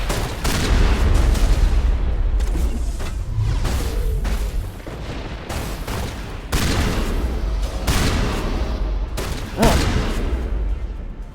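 Shotgun blasts and heavy gunfire in a Mass Effect firefight against Geth, a dense, loud barrage of overlapping booming shots and bursts that runs almost continuously, with a few sharper cracks standing out.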